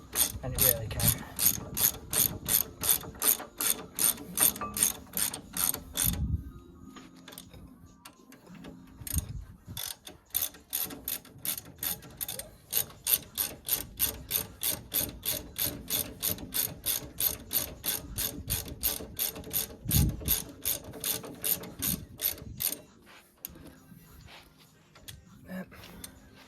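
A ratchet clicks in rapid bursts of rhythmic pawl ticks while tightening brake caliper bolts on a 2015 Dacia Duster during a front disc and pad job, with brief pauses between runs and occasional thumps, close and fairly loud.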